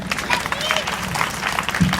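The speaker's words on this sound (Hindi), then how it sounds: "एक बार इनके लिए आप लोग जोरदार ताली बजाएं।" An audience at a college event applauds a guest with a burst of clapping and crowd noise, moderately loud and mixed with voices and a murmur of talk.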